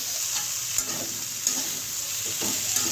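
Chopped ginger and green chili are stir-fried in a pan with a steady, close sizzle and a few soft scrapes of the spoon, with no voices.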